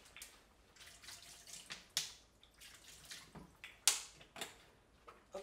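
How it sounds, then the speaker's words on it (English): Tap water runs faintly while hands are washed, with scattered splashes and drips at low level; a single brief word is spoken. "I'm going to wash my hands too"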